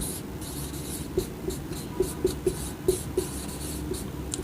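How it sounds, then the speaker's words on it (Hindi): Chalk or marker taps and scratches out a chemistry formula on a board, a series of short, quiet, irregular strokes over a faint room hum, without speech. "तो यहाँ पर हम लिख दे रहे हैं"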